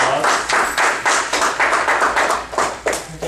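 Audience applause at a Toastmasters meeting, a short, loud burst of rhythmic hand claps from a small group, close and bright, with each clap distinct.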